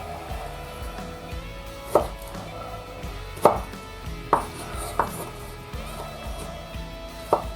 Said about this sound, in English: We're going to chop this all up.